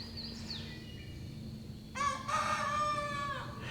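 A young rooster attempts one of its first crows, giving a single drawn-out, wavering cock-a-doodle-doo near the end after a quieter stretch of background noise. The crow comes through clear and fairly close.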